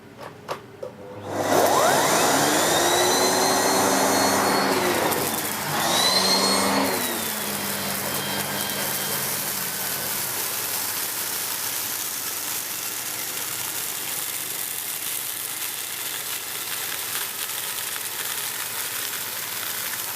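A Miele Cat and Dog S6 C2 Compact bagged cylinder vacuum cleaner switching on and spinning up to a loud, steady whine and roar, dipping briefly in pitch midway before settling into a constant drone, close and alone.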